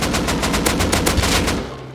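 Minigun fire in the Rust video game: a loud, rapid stream of closely spaced shots rattling for about a second and a half before trailing off, with no talk over it.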